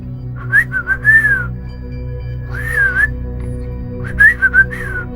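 A person whistles an imitation of a willie wagtail's call, three close, clear bursts of quick rising and falling chirpy phrases separated by short pauses.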